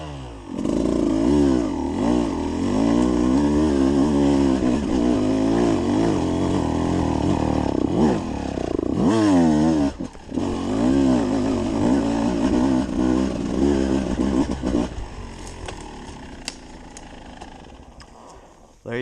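A 2022 Beta 200RR dirt bike lugging up a hill in second gear, its two-stroke engine droning loud and close with wavering revs, a brief dip midway, then labouring on before easing off.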